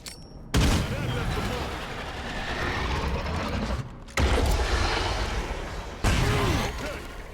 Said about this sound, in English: I'm gonna use these frag grenades first.